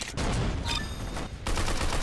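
Rapid bursts of gunfire from the Roblox game Arsenal, loud dense volleys with a short pause between them, without speech.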